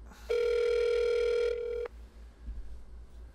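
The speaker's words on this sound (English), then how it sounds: "And the phone is ringing. This is the actual ring, not the fake ring." A telephone rings on an outgoing call, giving one long, steady electronic ring tone that cuts off cleanly against a low background hum.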